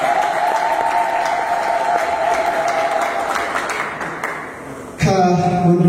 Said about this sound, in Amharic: እስቲ እንኳን ደስ አለ ብላችሁ አጨብጭቡለት።